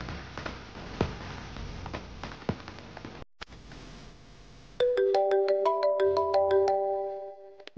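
A phone ringtone plays a repeating electronic melody, loud and clear, after a few seconds of scattered clicks and background rustle.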